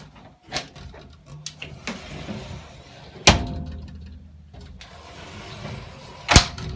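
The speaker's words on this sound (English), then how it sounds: "you can slide the door on open" A sliding closet door in a 2022 Wildwood Lodge 353 FLFB RV being unlatched and slid open, with scraping, rattling mechanical noise and a few sharp clacks as it moves and stops.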